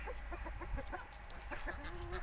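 Turkish naked-neck chickens cluck repeatedly in a farmyard, a busy run of short calls with other birds close by and a longer drawn-out note near the end.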